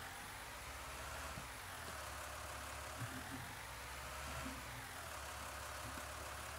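A tractor engine idles in Farming Simulator 19, a low steady rumble that rises and falls gently in a slow cycle, quiet and continuous with no talking.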